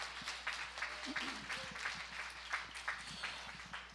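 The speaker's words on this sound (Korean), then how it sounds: "우리 너무너무 귀한 찬양 불러준 다시 한번 중고등부에게 우리 축복의 박수 하겠습니다" Scattered, moderately distant clapping from a church congregation on Christmas Day honoring the middle and high school choir, uneven and soft, with a few low voices and shuffling underneath.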